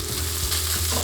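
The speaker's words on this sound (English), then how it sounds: "Gonna take my cooked rice into the oil." Cooked rice hitting hot oil in a pan, a loud, close, continuous sizzle and crackle of frying with stirring, alone without talk.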